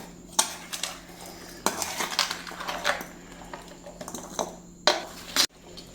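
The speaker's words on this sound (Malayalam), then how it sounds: "നാല് സ്പൂൺ പഞ്ചസാര ചേർത്ത് കൊടുത്തിട്ടുണ്ട് നമുക്കിതൊന്ന് ഇളക്കി യോജിപ്പിക്കാം" A spoon clinks against a bowl while four spoonfuls of sugar are stirred into a fruit salad, giving a few separate bursts of close metallic scraping and tapping with quiet gaps between them.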